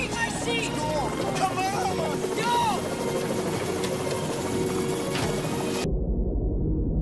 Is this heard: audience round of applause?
no